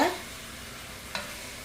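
Sri Lankan-style chicken devilled is stirred in a pan over low heat. Two brief, close scraping stirs stand out over a faint, continuous sizzle, with no speech.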